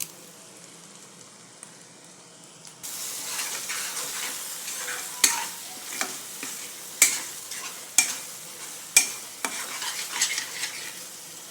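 Curry leaves and a pinch of asafoetida hit hot oil for misal, starting with a soft low sizzle that jumps into loud crackling and spitting, with sharp pops bursting out every second or so.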